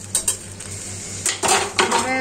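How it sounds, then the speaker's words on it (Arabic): Spoon clinks and scrapes against a cooking pot while stirring sauce made with oil, tomato sauce and a little water, with sharp metallic taps coming in irregular bursts over a low steady hum. "نحرك هنا"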